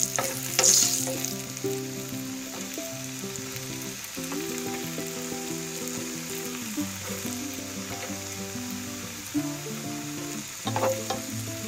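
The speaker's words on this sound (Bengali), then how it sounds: "তো চলো এবার তেলে একটা একটা করে ফ্রেঞ্চ ফ্রাইজ ছাড়া যাক।" Raw potato french fries dropped into hot oil in a wok, giving a loud, steady sizzling hiss close by with occasional stirring, over a continuous musical background.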